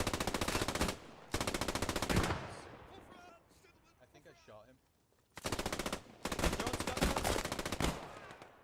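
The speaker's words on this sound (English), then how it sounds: "the MG42 cleaning up a few kills there, returning fire through the bushes" MG42 machine gun firing in the World War II game Post Scriptum, two long, loud rapid-fire bursts separated by a few quiet seconds of faint background noise and distant voices.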